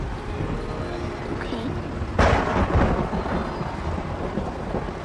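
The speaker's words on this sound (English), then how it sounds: "storm's starting to break" A sudden crack of thunder breaks through steady rain, then rumbles loudly for a moment before fading back under the constant hiss of the storm.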